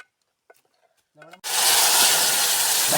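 Masala paste tipped into a hot cooking pot at an outdoor riverside chicken party, bursting into a loud, sustained sizzle right after a few brief voices and clinks.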